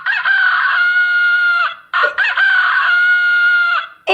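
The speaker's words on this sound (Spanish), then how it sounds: "El gallo, muy bien." A rooster crows loudly and up close in two long, drawn-out calls separated by a brief gap, with the start of a third at the end, and no voices.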